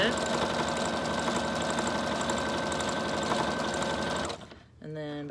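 A sewing machine running a zigzag stitch on a junk journal made from a box, a steady close mechanical whir that carries on for about four seconds, then stops abruptly before a short burst of talk.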